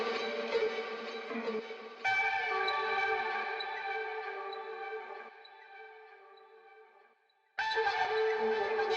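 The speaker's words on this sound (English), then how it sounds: "So just a cool kind of like scratchy, eerie sound, and that's just washed out with a bunch of reverb delay." Chopped, reversed sample with a scratchy, eerie tone, washed out in heavy reverb and delay, sustaining and slowly fading before dropping out and returning abruptly at full level.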